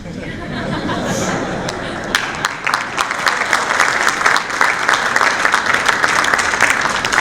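Conference audience applauding after a keynote speaker's remark, a dense wash of many hands clapping that swells louder partway through and holds steady, with faint murmuring and chuckles mixed in.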